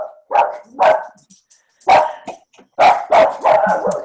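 A pet dog barks in loud, sharp bursts, about six barks in uneven clusters across a few seconds, close to the microphone with no talk over them.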